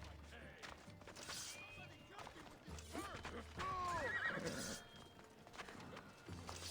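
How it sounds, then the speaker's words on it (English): Horse whinnying and neighing in a video game, several high wavering calls close together, with clip-clopping hooves underneath and a voice talking at moderate volume. "Why is there sudden horse noises?"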